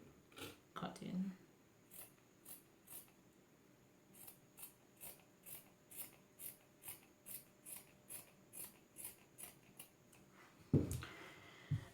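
Scissors snip steadily through shirt fabric for a no-sew face mask, a regular run of close, crisp cuts about every half second, with a louder rustle of cloth near the end and a voice talking over part of it.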